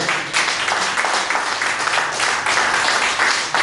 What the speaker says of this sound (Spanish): Dale palmas a nuestro Señor